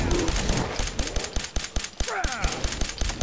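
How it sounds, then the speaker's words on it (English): Laser rifle fire in Fallout 4, a rapid run of sharp repeated shots in a steady rhythm lasting throughout, loud and close, with game sounds and voices mixed in. "anglers don't do very well with laser rifles"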